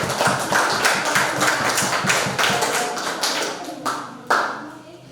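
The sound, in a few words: classroom applause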